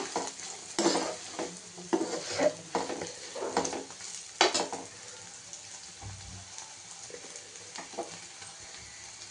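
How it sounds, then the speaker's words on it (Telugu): Paneer frying in a pan with turmeric, salt and kasuri methi, with repeated scraping stirs and clinks of a spatula over a soft sizzle, in irregular bursts at moderate loudness. "నేను కొంచెము పసుపు, సాల్ట్, కస్తూరి మేతి వేసి వేయించుతున్నానండి."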